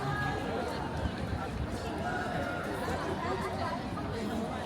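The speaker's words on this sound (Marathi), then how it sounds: "आणि गर्दी बघा इकडे" A large crowd gathers at Singapore's Supertree Grove ahead of the light show, filling the air with a steady, dense hubbub of many overlapping voices chattering at a constant level.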